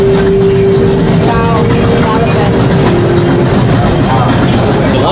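A zoo tour train rolls along at night, a steady rumbling ride with a droning engine tone, wheel noise and a brief squeal, while people talk throughout.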